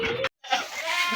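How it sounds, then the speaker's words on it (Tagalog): A farm goat gives a loud, close bleat, then a short pause and a second wavering, drawn-out bleat. "Yung kambing namin."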